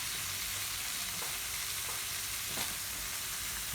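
Prawns and tofu frying in a pan for pad thai, a steady, soft sizzle with faint stirring scrapes now and then.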